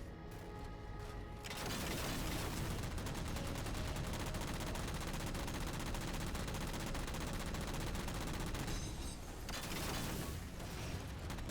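Missiles fire at a Phantom dropship in Halo 4, a sustained, loud barrage of rapid blasts and mechanical clatter that goes on for several seconds after a quieter start, then dips briefly before resuming.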